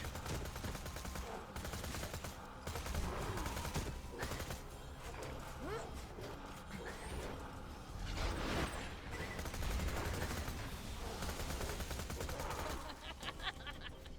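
Rapid SMG bursts from the Tattler in a video game, firing a Maya build, crackle in repeated bursts of gunfire at moderate volume, with a voice talking intermittently over the shooting.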